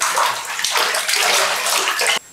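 Water pouring and splashing into a bathtub mixed with Gelli Baff, a loud continuous rushing and sloshing that ends abruptly at the close.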